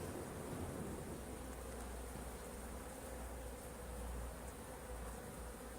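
Bees buzzing inside a strong hive colony that is awaiting a new queen, a steady dense drone heard close and continuous with no talking.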